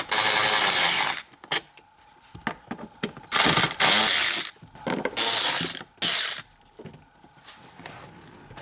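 A ratchet backs out T25 screws from a BMW E46 A-pillar, with loud bursts of rapid clicking separated by short pauses and softer handling noises, close up.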